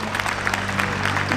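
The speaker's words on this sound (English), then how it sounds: "please give our chairman another round of applause" Brief burst of audience applause for the chairman at a university Founders Day convocation, a short steady patter of clapping over a low hum.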